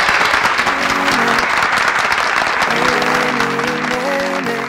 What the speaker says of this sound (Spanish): Yo quiero despedirlo con un aplauso, por favor.